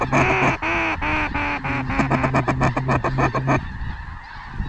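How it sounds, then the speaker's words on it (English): Loud, dense honking and quacking from a large flock of ducks and geese over a cornfield decoy spread in North Dakota, rapid overlapping calls close by for most of the stretch before thinning out into softer background noise. "There's some new ducks in here too."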